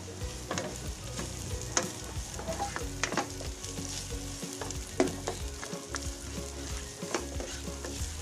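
Garlic and onions sauté in a pan for a seafood dish in oyster sauce, giving a continuous crackling sizzle broken by frequent clinks and scrapes of utensils. There is no talking.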